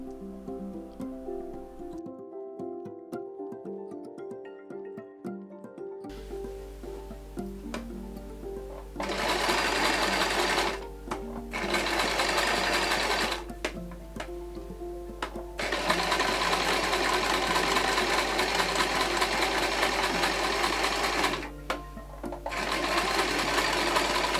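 Sewing machine stitching a waistband onto a skirt of hand-spun, handwoven fabric, running in several long, loud, steady bursts with short pauses between them. A quieter mechanical hum opens the clip before the stitching starts.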